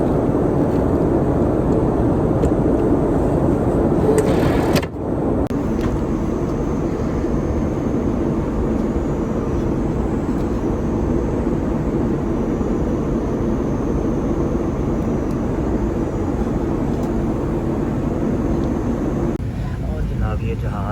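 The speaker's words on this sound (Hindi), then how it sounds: "ये जहाज़ तकरीबन 7 मिनट से टैक्सी कर रहे हैं" Airliner taxiing along a runway, heard from inside the cabin as a steady, loud engine and rolling drone that runs the whole time, briefly dipping once, with faint cabin voices beneath.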